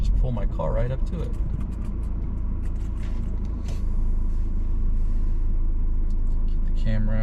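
A car rolls along a small-town street in rural Texas and pulls up beside a church, its engine and road rumble loud and steady from inside the cabin while a person talks over it.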